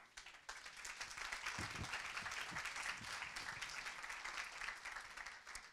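An audience at a francophone fundraising seminar breaks into warm applause, a dense, steady burst of many hands clapping that starts abruptly and carries on for several seconds in a large room.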